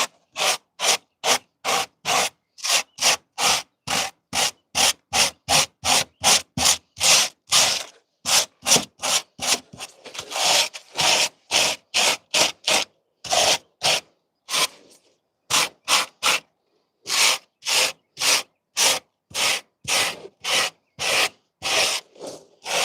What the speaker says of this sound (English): I believe it's a welding brush from Harbor Freight.